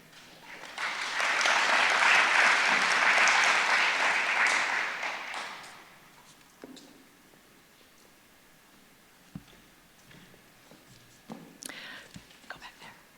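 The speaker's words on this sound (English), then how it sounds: "everyone can clap when they feel like it" An audience at a National Honor Society and National Junior Honor Society induction ceremony applauds in a dense burst of clapping that swells for several seconds and fades, followed by quieter room sounds and a few scattered claps.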